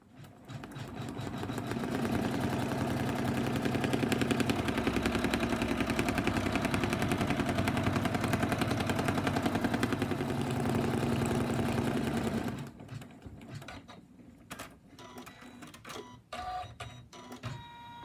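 An embroidery machine stitches a placement line onto stabilizer in a hoop, a loud, fast, steady mechanical whirring hum lasting about twelve seconds, then stopping and leaving scattered clicks and handling noises.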